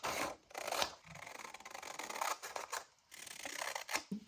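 Scissors snip and rasp through paper while cutting out a hand-drawn hexagon shape for a card, a steady run of close, crisp cutting strokes with brief pauses between them.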